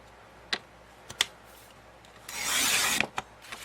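Paper being cut by hand for a photo folio: a few sharp isolated snips and clicks, then a longer rasping slice of about a second, close and quiet with no talking.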